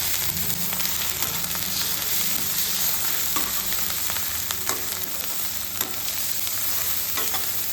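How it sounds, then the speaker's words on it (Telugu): Sliced onions frying in a pan with salt for a spicy murrel fish masala curry, a steady close sizzle with scraping stirs and occasional clinks of the spoon, no talk. "ఇప్పుడు ఉల్లిపాయలు సరిపడగానే వేస్తున్నానండి. ఇది బాగా కలపాలండి, పచ్చివాసన పోయే వరకు"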